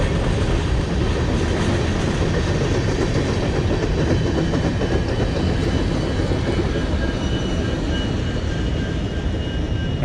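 Steady rumbling roar of a long, empty coal freight train, about half a mile long, rolling past close by, with continuous clattering wheels and no break in the noise.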